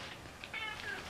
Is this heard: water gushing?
no